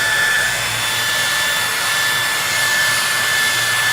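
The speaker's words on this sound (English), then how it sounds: "not put the heat gun too close to the processors" Steady loud whooshing roar of a heat gun blowing hot air onto a PlayStation motherboard near the processors, continuous and close, with a faint high whine.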